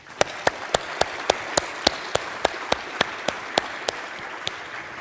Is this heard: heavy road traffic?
no